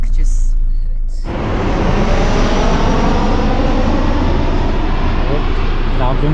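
Airplane roaring close by at the edge of the Trabzon airport runway, a loud, steady broadband engine rush that swells in abruptly after a short quiet start and holds throughout.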